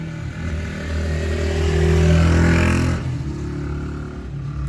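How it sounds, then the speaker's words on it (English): A motorcycle rolls past outside, its engine note swelling to a loud peak around the middle and then fading away behind steady background noise. "Not a car, actually, motorcycle."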